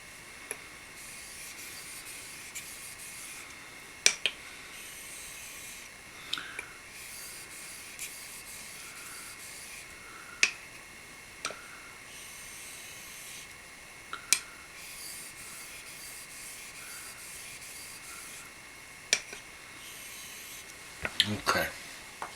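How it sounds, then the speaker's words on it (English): A kamisori straight razor edge is honed very lightly on a stone with drying slurry, a faint steady hiss of strokes broken by occasional small clicks and taps, with low talk at times. "I'm getting really, really light now on the honing action."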